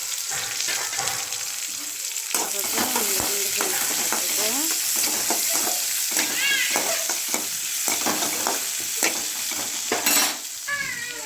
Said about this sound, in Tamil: கடுகு இந்த மாதிரி நல்லா பொரிஞ்சு வரும்.